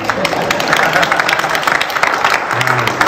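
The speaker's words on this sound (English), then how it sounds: "So you can clap for me." Steady applause from a fan convention audience, a dense wash of clapping that continues evenly throughout, fairly loud and close.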